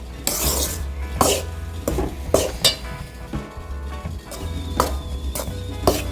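Pearl millet flour being lightly roasted in a pan, a spoon scraping and clinking against the metal in repeated strokes, close and alone with no talk.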